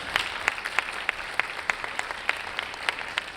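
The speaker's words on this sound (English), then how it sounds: "And I would like to first give an applaud to the shortlisted." Thin, scattered clapping from a modest audience at a closing awards ceremony, individual claps clearly separated in an uneven rhythm.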